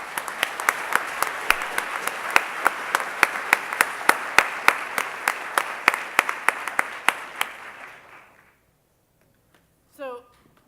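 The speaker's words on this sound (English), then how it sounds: "a round of applause for our winners" Applause from a conference audience for award winners: steady clapping with crisp individual claps standing out, lasting about eight seconds before dying away into quiet, followed by a brief voice.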